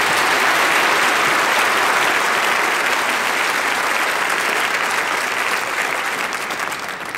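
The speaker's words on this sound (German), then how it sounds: "Es war sehr vernünftig, dass Sie jetzt noch ein wenig geklatscht haben" A large studio audience at the German TV show Wetten, dass in Mainz applauds loudly and continuously, a dense wash of clapping that tapers slightly toward the end.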